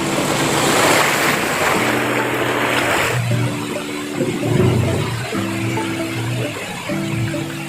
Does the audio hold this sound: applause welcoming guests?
no